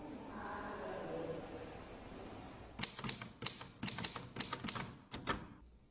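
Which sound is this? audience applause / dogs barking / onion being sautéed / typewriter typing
typewriter typing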